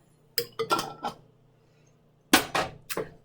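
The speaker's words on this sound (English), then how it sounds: "I'm going to keep stirring, okay, and letting it evaporate" A utensil clatters against a pot while a Si Wu Gao mixture is stirred, giving two clusters of sharp metallic knocks and scrapes with a quiet pause between them, close by and without talk.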